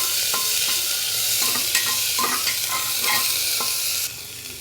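Ginger and garlic sizzling in hot oil in a pan while a spoon stirs them, a steady loud hiss with repeated scraping strokes, close up and without voices.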